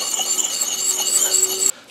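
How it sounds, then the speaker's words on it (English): A foam-backed sanding pad rubs along an axe edge in a steady, close, hissing scrape that runs without pause and then stops abruptly near the end. "So the Rooster method uses a sanding pad like this with a foam backing."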